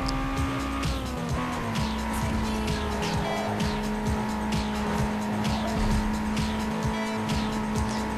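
Race car in Need for Speed Underground 2 tearing down a street, a steady loud engine drone with a sustained tone, punctuated by repeated short tire squeals and skids, with no pauses throughout.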